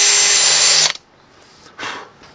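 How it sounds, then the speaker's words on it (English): A power drill bores a hole during a DIY repair of a Denso starter solenoid contact on a 1983 Toyota Pickup. It whines loud and close for under a second, then cuts off, leaving faint handling sounds. "Oh, the adventures of drilling holes."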